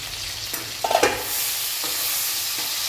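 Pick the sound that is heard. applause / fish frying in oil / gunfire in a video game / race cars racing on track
fish frying in oil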